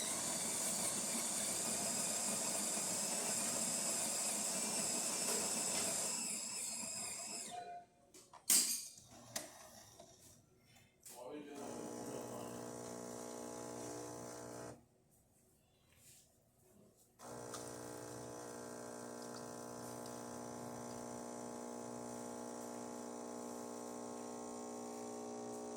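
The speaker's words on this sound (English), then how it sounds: "So here I'm just going to do an espresso." An espresso machine pulls a shot with a steady pump hum and hiss, a short break of clicks and clatter, then the hum returns and runs on at moderate level without talk.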